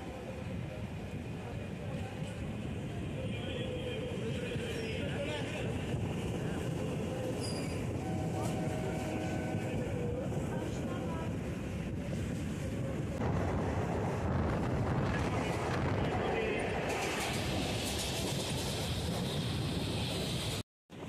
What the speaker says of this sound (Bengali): এখন আমাদের ট্রেন তার প্রথম হল্ট অর্থাৎ কাজীপাড়া স্টেশন থেকে বেরিয়ে যাচ্ছে।